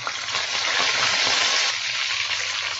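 Ginger and curry leaves sizzle steadily in hot oil in a kadai, a dense, continuous crackling hiss at close range with no talk over it.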